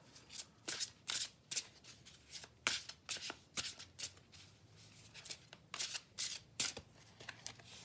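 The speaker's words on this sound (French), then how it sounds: "On va tirer une autre carte ici, en pensant à rien" Oracle cards are shuffled by hand in quiet, crisp bursts of riffling and flicking, a dozen or so short rustling strokes in an irregular rhythm, close and soft with no talking.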